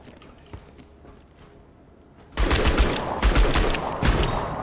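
Scout rifle fire in Outpost: Infinity Siege, a quiet lull followed by a sudden loud run of sharp shots with clattering impacts, fired at a steady, unhurried pace close up.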